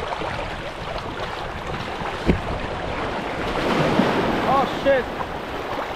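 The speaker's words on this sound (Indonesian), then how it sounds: "Ombak lagi." Sea waves wash onto a sandy beach near coral reefs, a continuous close rushing surf with wind buffeting the microphone and a brief exclamation from a person partway through.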